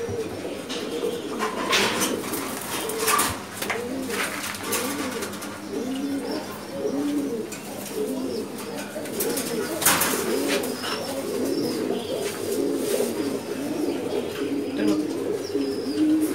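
A breeding loft full of pigeons coos continuously, many birds' low throaty calls overlapping near and loud, with occasional light clatters among them.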